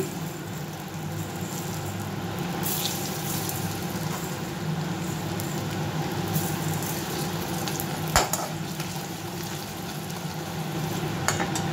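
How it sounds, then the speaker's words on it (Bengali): Moong dal tempered in hot oil with nigella and radhuni seeds crackles in a steady loud sizzle, with occasional spoon clinks against the pan, close and continuous. "আর এখানে আমি এই দেখো মুগ ডালটা ফোড়ন দিয়ে দিচ্ছি"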